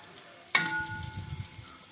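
Ginger-garlic paste hits a hot pan for a chicken dish with a sharp initial crackle, then settles into a soft, uneven sizzle as it is stirred.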